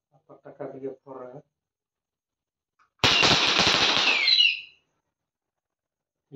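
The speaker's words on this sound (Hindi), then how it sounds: "जल रहा है, पटाखा दिया फोड़ रहा है" An electric firecracker string bursts in a dense, loud crackle of rapid pops lasting over a second, after short bits of talk, at a market in Patna.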